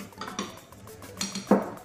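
Ceramic plates clink as they are set down on a table while a science experiment is prepared, giving a few light, close knocks and a sharper clatter near the end, with no talking.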